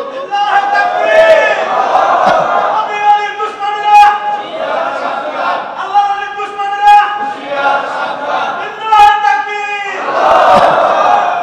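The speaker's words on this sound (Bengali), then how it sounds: "একজন নবীর শানে কে তাকবীর দিতে পারে? তাকবীর দাও তো" A large crowd at a religious gathering shouts the takbir in repeated loud, unified chants, rising and falling in waves over about ten seconds, with a few voices leading between the bursts.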